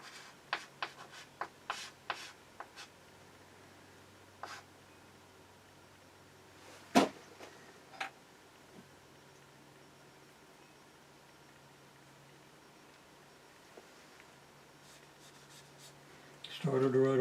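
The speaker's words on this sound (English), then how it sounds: "Started to write a plus there." Marker or chalk writing on a board during a maths lecture, a series of brief scratchy strokes and taps near the start, then mostly quiet room tone with a louder knock midway and rustling at the end.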